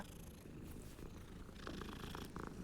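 Low, rumbling purr of a cat in the video game Hogwarts Legacy, soft and steady with slight pulsing, heard alone without speech.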